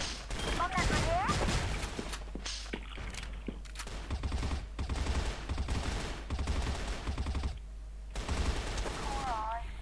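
Video game battle with rapid bursts of gunfire and explosions, loud and continuous for most of the span with brief dips, mixed with game effects and voices talking over it.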